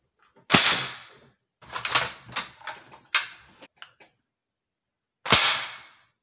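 Sharp metallic clacks from an IWI Tavor SAR bullpup rifle being worked by hand, one loud snap, a quick cluster of smaller clicks and rattles, then a final loud snap after a pause, close and with no talking.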